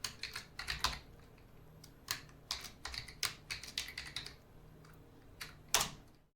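A WiFi password is typed on a computer keyboard: quick irregular key clicks in short bursts, close and fairly quiet, with no talk.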